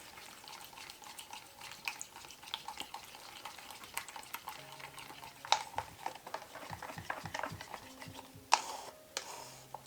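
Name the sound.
stirring paint mixture in a cup for a dutch pour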